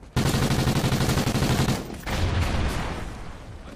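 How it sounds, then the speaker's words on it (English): Sustained rapid video game gunfire rattles loudly and close, a dense fusillade with a brief gap midway before the shooting continues and slowly fades. "I'm taking fire over here."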